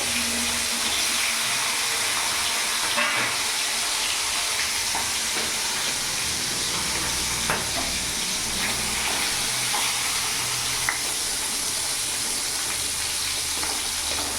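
Two rohu fish heads coated in salt and turmeric fry in hot oil, giving a steady, moderate sizzling hiss that runs unbroken throughout, with a few faint pops and no talk.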